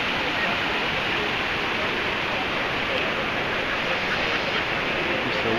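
Waterfall cascades at Lanquin give a loud, continuous broadband rush of falling water that stays steady and close throughout.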